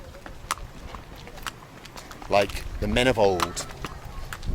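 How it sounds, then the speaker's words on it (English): Horse hooves clop over rough ground in Afghanistan under a man's spoken words, with scattered clatter and crackle. "Just riding through Afghanistan on a horse."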